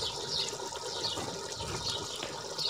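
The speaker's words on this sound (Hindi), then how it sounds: "अब इसमें घी डाल देना है।" Ghee poured into a pot of simmering beef and potato broth, a steady liquid pouring and splashing sound, fairly loud and continuous with no talk.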